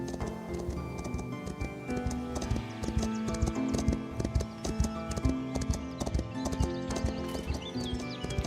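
Horse hooves clip-clop steadily in the medieval kingdom-building video game Foundation, a busy rhythmic clatter mixed with other game sounds and music, fairly quiet and with no talking.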